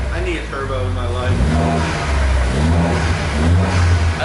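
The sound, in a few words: Ford Fiesta ST engine revving with Whoosh Motorsports short ram intake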